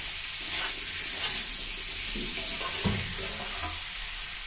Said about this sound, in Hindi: अब इसको नमक को मिला के ढक के पकाएंगे।